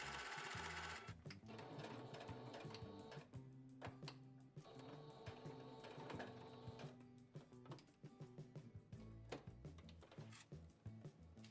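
A sewing machine runs steadily, stitching new elastic into a cloth diaper along the old seam, its fast mechanical needle chatter continuous and close, with brief pauses near the start and late on.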